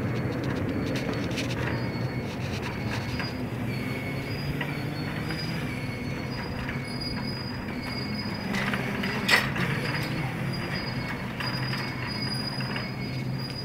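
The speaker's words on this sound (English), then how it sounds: "This is a really high-pitched squeak." Thin, high-pitched squeaking recurs over a steady mechanical rumble, with brief sharper squeals and a short louder spike near the end; no talking.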